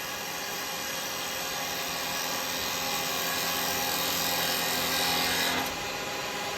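A roughing gouge cuts a wooden bowl on a lathe with a steady, loud, broadband shearing hiss and rasp that keeps going for the whole stretch and swells slightly near the end.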